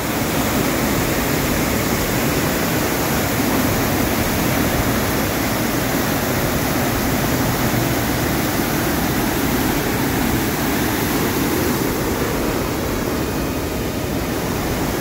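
Rushing river water on a camping trip to Manikaran Sahib, a loud, steady broadband roar of fast-flowing current that runs unbroken and close by throughout, with no voices over it.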